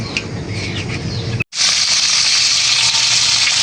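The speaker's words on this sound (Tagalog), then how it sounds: "dito po ako ay nagpiprito na po ng isda" Fish frying in a pan gives a sudden loud, continuous sizzling hiss that starts after a brief quieter stretch and holds steady close by.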